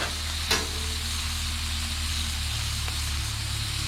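Broccoli sizzles steadily on a Blackstone 36-inch griddle under a griddle hood, with a sharp scrape and clatter near the start as a spatula flips it, then a continuous close hiss.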